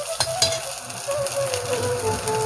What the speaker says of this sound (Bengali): এই যে জল দিয়ে মা কষিয়ে নিচ্ছে